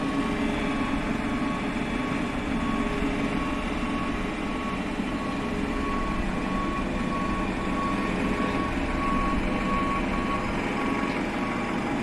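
A GSX ground service vehicle reverses in a flight simulator at an airport stand, its beeper repeating steadily over a constant loud engine and aircraft drone.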